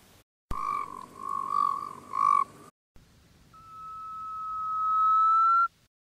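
Recorded frog calls play back from a Southern African frog field-guide app: first a bout of throaty pulsed croaks, then after a pause a single long, rising whistle-like call, clear and uncluttered.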